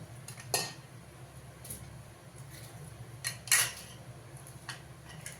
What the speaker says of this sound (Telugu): డ్రై ఫ్రూట్స్ కూడా ఉన్నాయి ఇదైతే చిన్న కట్ చేసేసుకుంటున్నాను ఇప్పుడు